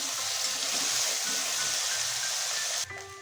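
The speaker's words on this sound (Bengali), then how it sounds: "এখানে তেল গরম হয়ে গেছে এবার এর মধ্যে দিয়ে দেবো লবণ হলুদ মাখিয়ে রাখা দেশি ট্যাংরা মাছ" Salted, turmeric-coated desi tangra fish fry in hot oil with a loud, dense, steady sizzle that drops away abruptly near the end.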